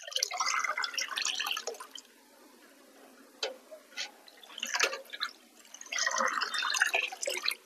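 Mustard oil cake being stirred into water to make liquid fertilizer, giving wet sloshing and dripping sounds in bursts, close by, with quiet pauses between.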